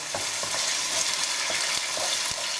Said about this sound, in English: You want a couple of minutes to actually cook the puree out because it'd be quite bitter.